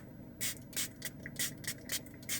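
Eco enzyme disinfectant sprayed from a pump bottle inside a car, about seven short hissing bursts in a quick, uneven rhythm, close and fairly loud against a quiet background.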